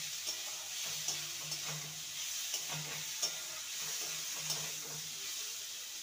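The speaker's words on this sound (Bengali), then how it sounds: "মশলার সাথে আলুকে নেড়ে নেব।" Fried potato pieces are stirred with spices in a frying pan, giving soft repeated scraping strokes over a low, continuous sizzle.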